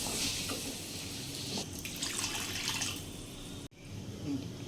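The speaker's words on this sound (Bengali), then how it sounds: "রাজমাতে জল দিয়ে দিয়েছি।" Water pours into a pot of boiled rajma in a home kitchen, a steady trickling splash running several seconds before a brief cutoff and a fainter resumption.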